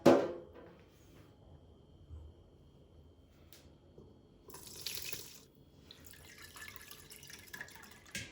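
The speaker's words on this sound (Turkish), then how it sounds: "Şimdi temiz bir mutfak tülbentiyle limonatayı süzeceğim." Homemade lemonade made from lemons and sugar pours and trickles through a clean kitchen cheesecloth, a steady soft stream of liquid with brighter splashing bursts midway and toward the end.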